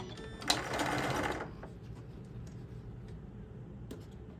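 A sewing machine stitches a tote bag in a quick burst of rapid whirring for about a second, then goes quiet apart from faint room noise and a small click.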